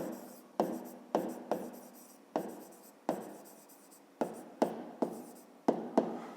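Pen writing on paper, a math exercise being written out, in short scratchy strokes that come in a quick irregular rhythm of about a dozen bursts, close and clear with no talking.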